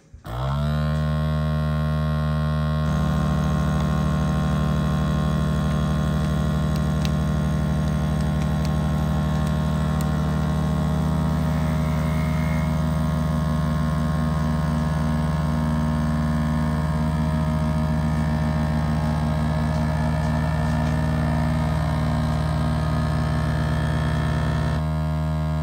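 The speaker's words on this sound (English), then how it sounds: "Now we vacuum seal it." A vacuum sealer runs on a bag of A5 wagyu prepared for sous vide, a loud, steady droning hum with a strong tonal whine that starts abruptly and holds unbroken for about twenty-five seconds before cutting off.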